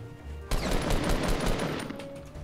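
Sniper fire in the Fortnite video game: a sudden loud blast opens a dense, sustained burst of rapid gunfire that roars on close and steady before easing off.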